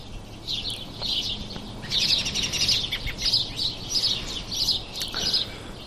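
Several small birds, including house sparrows, chirp and trill in quick, overlapping bursts in a backyard, fairly close, with faint low background hum and no talking.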